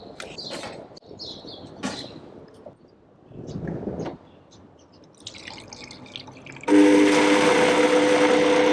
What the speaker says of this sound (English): this is gonna go in the blender